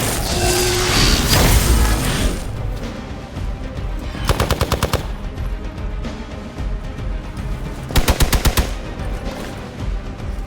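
Marvel's Midnight Suns battle with a loud, roaring blast up front, then two rapid mechanical bursts of about eight sharp shots each, separated by rumbling ambience.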